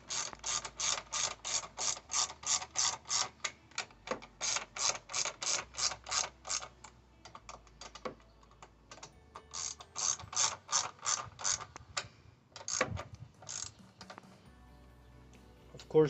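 A ratchet with a number 10 socket tightening a carburetor on a Toro lawn mower, clicking in rapid bursts of repeated pawl ticks, close and distinct, with pauses between strokes.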